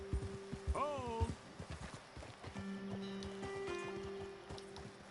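Horses moving in Red Dead Redemption, a soft uneven clip-clop of hooves with a brief whinny-like call and a sustained tonal hum, fairly quiet with ambient game sound.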